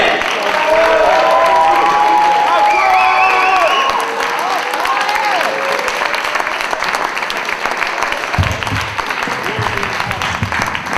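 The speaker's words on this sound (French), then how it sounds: "Et je veux que vous applaudissiez." Audience applause at a slam poetry competition, loud sustained clapping from a crowd with some cheering and whistles mixed in, continuing throughout, with voices audible near the end.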